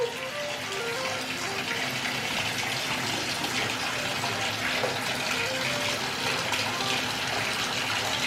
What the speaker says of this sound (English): Can you pour it in the tub?